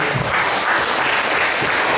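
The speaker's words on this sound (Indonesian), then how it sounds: "berikan tepuk tangan dulu" An audience at a parenting workshop claps steadily throughout, a dense, even wash of applause from a roomful of people with no break.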